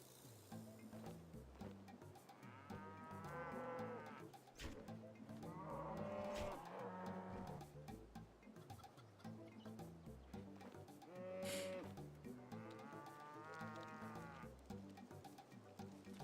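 Cows in the video game RuneScape moo in several drawn-out calls, one after another over a low game background, faint overall.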